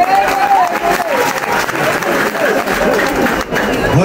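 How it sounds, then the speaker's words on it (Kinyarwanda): A crowd of university students at a campus event in Rwanda claps in a loud, dense, continuous burst of applause, with murmured voices mixed in. "amashyi"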